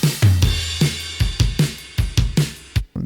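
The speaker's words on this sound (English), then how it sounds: "And then the ride comes in halfway through." Programmed drums in a music production track thump in a steady groove while a ride cymbal adds a sustained shimmering wash over the hits, loud and close, ending with a brief cut.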